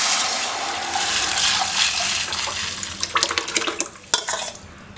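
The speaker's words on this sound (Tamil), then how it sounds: "அந்த ரசத்தை இதில் ஊற்றிக்கலாம்" Tomato rasam is poured into a pan in a steady, splashing stream, followed by a few light clinks and knocks of a vessel against metal near the end.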